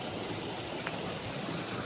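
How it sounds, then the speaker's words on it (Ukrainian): Water running down from the mountains in Bukovina, Ukraine, after the river washed a bridge away: a steady, loud broadband rush of flowing water filling the scene without pause. "з гір стікає вода"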